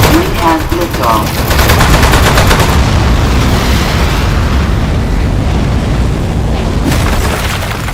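Gunfire in the video game Aperture Desk Job, a dense run of rapid loud shots and booms, with a brief voice at the start, then a sustained roaring blast that carries on to the end.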